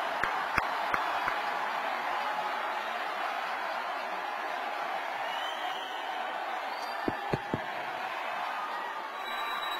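Audience applause welcoming a candidate at a Grand National Party leadership convention, a dense continuous clapping crowd throughout with a few sharp louder claps standing out, without speech over it.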